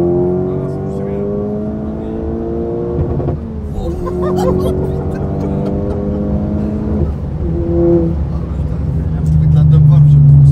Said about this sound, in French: Avec la dump valve, j'aime trop ça.